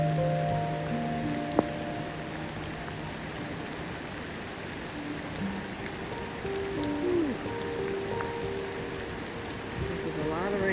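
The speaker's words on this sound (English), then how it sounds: "This is a lot of rain" Heavy rain pours down steadily as a dense, continuous hiss, with faint tonal sounds drifting through in the background.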